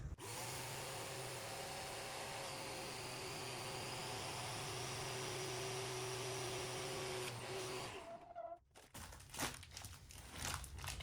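A mattress pad sealed in a vacuum storage bag is sucked flat by a vacuum cleaner, a steady loud motor whine running for about eight seconds before cutting off, followed by faint rustling and handling.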